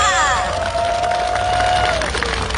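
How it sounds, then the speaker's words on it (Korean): A rally crowd in the open at Dongmun Rotary in Jeju City cheers and claps, a loud dense wash of voices and applause, with a brief high tonal sweep near the start. "큰 박수 부탁드리겠습니다"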